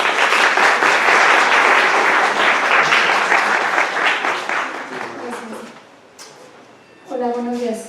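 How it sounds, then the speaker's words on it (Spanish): Applause from an audience greeting a presenter at a weekly academic session on corneal transplant advances, loud and sustained dense clapping for about five seconds that gradually fades out, followed by a voice speaking at the end. "démosle un fuerte aplauso para darle la bienvenida a esta sesión académica semanal"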